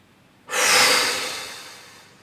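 A single deep exhalation during a sophrology relaxation exercise, a sudden loud breathy rush of air that starts abruptly and slowly fades over about a second and a half, close and alone without talk.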